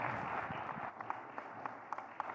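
Audience applause at an agricultural summit session, a dense steady crowd clapping with a few sharper individual claps standing out near the end, moderately loud and without talk.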